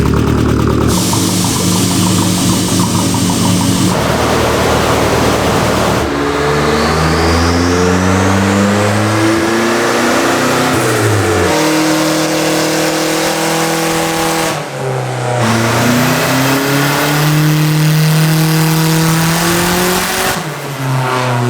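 Turbocharged single overhead cam Nissan 240SX S13 revving hard on a dyno, loud and close, with repeated rising pulls, brief drops between runs and a high turbo whine, no talking.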